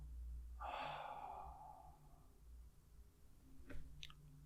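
A deep breath out during a guided breathing exercise, a single long, soft airy exhale lasting over a second, close and quiet, with no talking.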